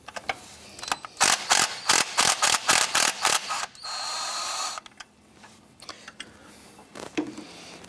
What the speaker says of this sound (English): Using a 13mm socket and extension, we're going to go ahead and remove this bolt right here.